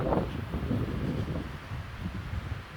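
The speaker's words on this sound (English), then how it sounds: "Gosh, is it windy!" Wind in the Rocky Mountains buffets the microphone in a continuous low rumbling roar, gusting slightly stronger at the start, with no voices.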